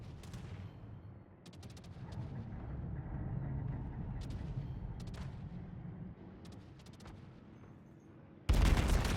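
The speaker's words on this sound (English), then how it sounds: "there is an airstrike going for the enemy carrier right now" Rumbling explosions and gunfire from an airstrike in the naval battle game World of Warships: a continuous low boom with scattered sharp cracks, then a loud burst at the end, with no talk.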